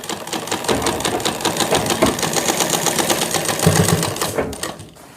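A sewing machine stitches a seam on a shirt with a fast, steady mechanical whir, close and loud, running continuously before slowing and stopping near the end.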